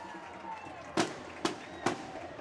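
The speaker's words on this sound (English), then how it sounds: "and there's the fireworks" Fireworks burst at a Friday night high school homecoming football game, Hernando Tigers against Horn Lake Eagles, with three sharp loud bangs about half a second apart over a faint crowd murmur.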